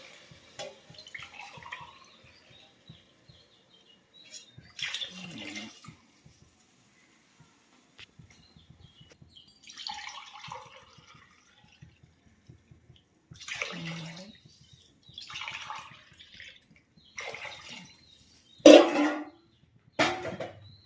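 Coconut milk is poured into rice for biryani in several separate pours, each a soft, close splashing gurgle, with quiet pauses between them.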